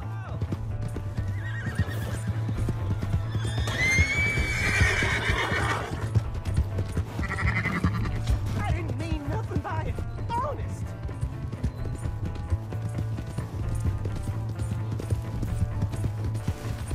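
A horse gallops in Red Dead Redemption 2, with steady rapid hoofbeats, whinnies and snorts throughout, alongside game music, an engine-like hum and shouted voices.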